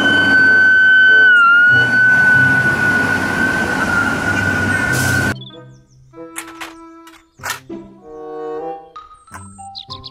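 A toy fire truck siren wails steadily and loudly for about five seconds, then cuts off, followed by scattered electronic toy tones and beeps.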